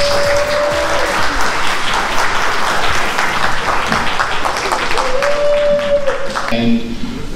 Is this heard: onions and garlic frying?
no